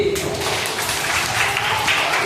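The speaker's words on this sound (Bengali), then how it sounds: "হাততালি" A crowd at a quiz applauds a correct answer with steady, dense clapping that carries throughout, with voices faintly mixed in.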